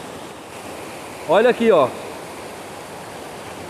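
Water of the Velho Chico at the Missão Velha dam rushes in a constant broad roar, like falling or flowing water, while someone speaks briefly over it midway.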